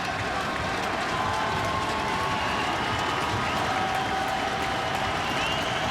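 Steady roar of a college football stadium crowd at the Hawai'i Bowl, Boise State against East Carolina, building before a third down; a dense, continuous wash of voices, cheering and scattered clapping with no single voice standing out.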